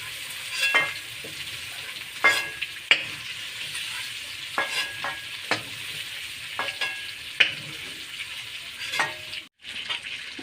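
Shrimp fry in hot oil with a steady, crackling sizzle, and sharp spatula scrapes and knocks against the pan break in every second or two. The cooking is close, and no one speaks.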